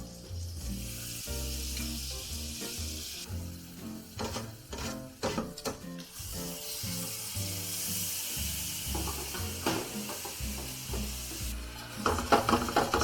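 Butter sizzles and fries steadily in a hot frying pan for French crêpes, a continuous close crackle with occasional stirring and scraping sounds and louder spatters near the end, with no voices.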